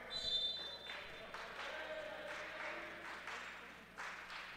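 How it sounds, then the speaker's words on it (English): Faint, scattered clapping from a small crowd in a men's college volleyball gym, acknowledging an injured player, sits under a commentator's voice. "Claps heard around the gym."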